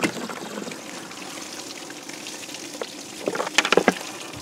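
Liquid trickling out of a container holed by a .22 Long Rifle round, a steady hissing dribble close by that turns into a few louder splashing spurts toward the end.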